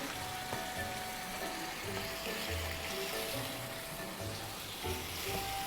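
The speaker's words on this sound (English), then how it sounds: "we're going to let this simmer for about 10 minutes so all those flavors would meld together" A fish sauce simmering in a pan for branzino, soft continuous sizzling and bubbling at low volume, with faint clinks and scraping of stirring and no talking.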